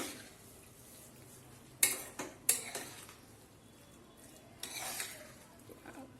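A spoon mixes pomegranate lemon rice flavored with ginger in a vessel, giving a few sharp metallic clinks and soft scraping strokes, close and fairly quiet, with no voices.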